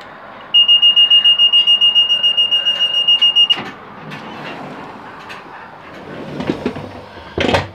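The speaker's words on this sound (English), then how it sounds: "That was Huntingdon on its one a day LNER service to York." An LNER train at Huntingdon station on its once-daily York service, with a steady repeating electronic beeping of door warning tones for about three seconds, followed by low rumbling and clunks as it starts to move away.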